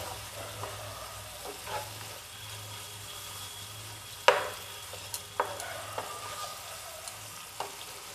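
Spices with turmeric frying in hot oil in a pan, a quiet steady sizzle broken by a few sharp spoon taps and stirring scrapes; no one speaks.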